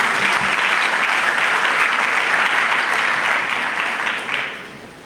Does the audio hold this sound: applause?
yes